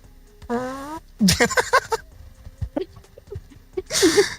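A voice imitates a fart with a buzzy, rising vocal blurt, followed by animated, laughing talk and a second noisy blown burst at the end, all close and loud.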